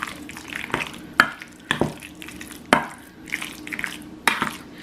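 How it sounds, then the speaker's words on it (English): A spoon stirs homemade cranberry sauce in a pot, giving soft scraping and clinking knocks at irregular intervals, about six distinct taps, close and moderately quiet with a faint simmering background. "I'm going to give mine a little stir"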